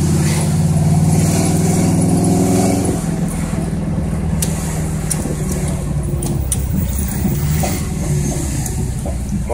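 An SS Monte Carlo with a Flowmaster exhaust gives a loud, deep engine rumble heard from inside the car. A steady droning note settles lower after a few seconds, and faint sounds come through over it.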